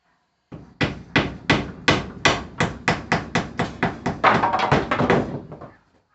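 Rapid, evenly spaced hammer blows ring out in a workshop while pegboard is fitted, about fifteen strikes in a row, close and loud, quickening into a dense flurry near the end.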